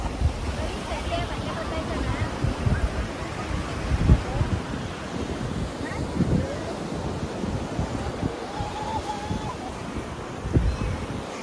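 Sea waves wash in at a beach, a continuous surging roar with wind buffeting the microphone and a few louder swells, while people talk nearby.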